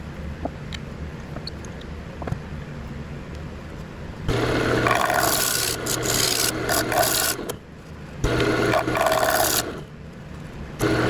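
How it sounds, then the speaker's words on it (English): A scraper smooths a wooden bowl spinning on a lathe. Loud, rough rasping comes in two long bursts over a low motor hum, with a brief pause between passes. "get my scraper and try to flatten this out"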